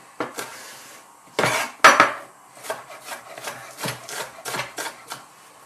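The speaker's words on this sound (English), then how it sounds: "I'm just very thinly slicing the peppers up into long strips and then I'm cutting them into threes" Knife thinly slicing peppers into long strips on a chopping board for a Thai green coconut curry, a series of separate scraping cuts, some sharp and loud near the start, then a quicker, softer rhythm of strokes with no talking.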